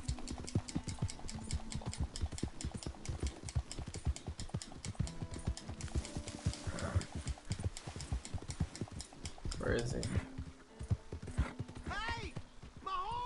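Horse hooves clip-clop in a steady, brisk rhythm in the Red Dead Redemption 2 video game, close and loud, with a horse's whinny near the end and someone talking over the hoofbeats.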